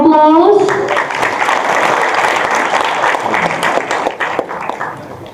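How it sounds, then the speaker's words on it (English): An audience at the ILASW 2024 opening ceremony breaks into sustained applause, starting loud and gradually fading, with a voice briefly heard at the start. "Let's give them a big round of applause"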